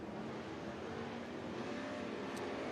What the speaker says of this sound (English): Shelby Williams is on the gas.